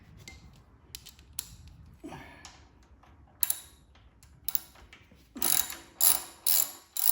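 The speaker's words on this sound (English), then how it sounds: "I'm going to take off the cover with the 10 millimeter wrench." A 10 millimeter wrench ratchets off the valve cover bolts on a DuroMax XP10000HX dual fuel generator, with several bursts of close, crisp clicking separated by pauses and growing louder toward the end.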